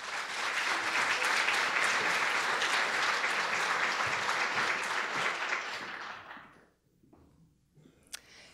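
Warm applause from an audience in a lecture hall, welcoming curator Michelle Hargrave, fills the room for about six seconds, then fades out to near silence with a stray clap or two.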